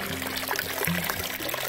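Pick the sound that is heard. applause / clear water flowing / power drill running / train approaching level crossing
clear water flowing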